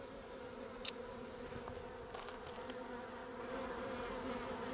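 Honeybees buzzing steadily around an open hive during a hive-uniting job, a dense, continuous drone close to the microphone with a few brief sharper passes of individual bees, and no talk.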